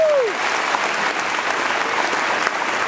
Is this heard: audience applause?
yes